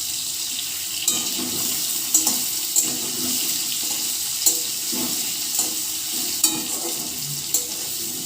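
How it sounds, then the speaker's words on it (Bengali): Potatoes frying in a pan with salt and turmeric give off a steady, close sizzling hiss scattered with small sharp pops, and no one speaks. "নুন আর একটু হলুদ দিয়ে আমি আলু ভাজি।"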